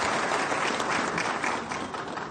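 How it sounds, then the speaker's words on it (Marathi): An audience applauding newly elected municipal council presidents at a felicitation event in Nagpur, a sustained burst of many hands clapping that stays full and then eases slightly toward the end. "जोरदार टाळ्या वाजवून त्यांचे आपण या ठिकाणी अभिनंदन करावे"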